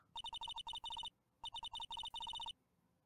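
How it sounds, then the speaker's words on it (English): A telephone in the Phoenix Wright: Ace Attorney game rings after a redial, two clean bursts of rapid electronic trills, bright and fairly quiet, with no one talking. "You pressed redial on that phone there, didn't you?"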